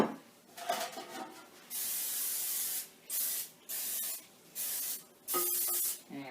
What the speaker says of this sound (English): You want to make sure they're sprayed really, really well